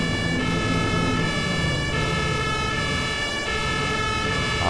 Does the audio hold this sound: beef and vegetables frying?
no